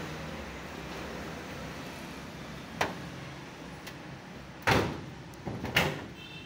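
The double doors of a steel almirah being opened and closed, giving a few sharp metallic knocks and rattles over steady background hiss and distant road noise, with no voices.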